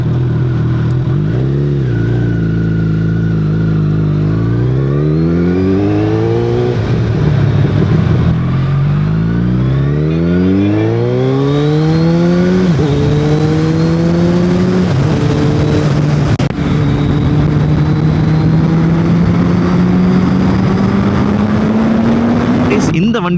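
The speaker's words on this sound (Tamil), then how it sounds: "இந்த வண்டியோட பேர் சுசுகி ஹயபுசாங்க. இது ஒரு ஜெனரேஷன் 3 பைக்." Suzuki Hayabusa Gen 3 motorcycle revving hard, its engine note sweeping up and down in repeated climbs before settling into a steady high-pitched drone; close and loud throughout.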